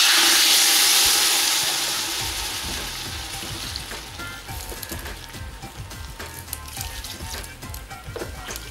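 A roux with aromatic vegetables cooks in a pot for a Cajun prawn and crayfish gumbo, giving a loud, steady sizzling hiss that eases slightly after the first seconds.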